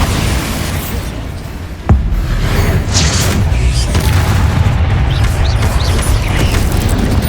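In Hogwarts Legacy, a Bombarda blasting spell sets off a sudden booming explosion. A low rumbling blast rolls on behind it, with clanks and game effects layered over it.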